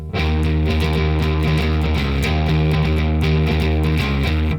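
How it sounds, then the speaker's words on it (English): A distorted bass guitar riff repeats a short pattern of notes in a steady rhythm, loud and up close with no voices. "the bass riff is very similar, but the rhythm is different"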